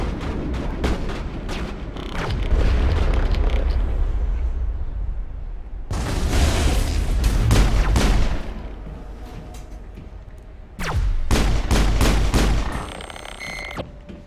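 Mass Effect combat erupts in dense gunfire and booming explosions, loud sustained bursts with rapid shot clusters and a couple of heavy blasts, without any talking.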